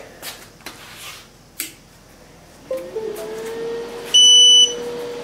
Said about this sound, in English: And you can see it does make some noise. And it automatically goes home when you turn it on.